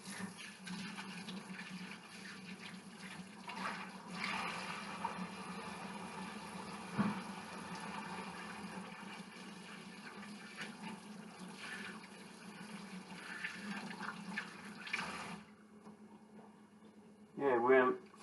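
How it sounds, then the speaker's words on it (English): Tap water runs steadily while hands are washed, a constant close splashing flow that stops near the end. Someone talks over part of it. "to wash your hands."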